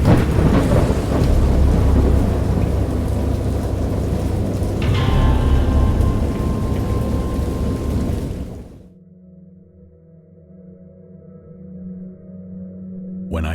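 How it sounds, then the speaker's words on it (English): Heavy rain pours in the video game Dagon during a great storm, dense and loud with a thunder rumble midway, then cuts to quiet low droning ambience. "I have indistinct recollections of a great storm sometime after I reached the boat."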